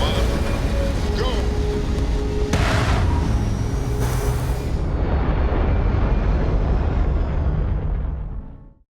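A custom Star Eagle spaceship lifts off in Starfield with a loud, sustained engine roar and rumbling thrust. It swells briefly with bursts of noise, then fades into silence. A voice talks over the start.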